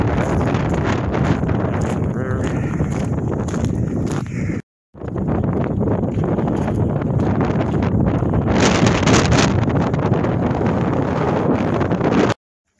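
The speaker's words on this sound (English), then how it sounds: "Still pretty windy out here," Strong, steady wind at Smith Rock buffets the microphone with a constant low roar, briefly cutting out for a moment midway before the gusty rumble resumes.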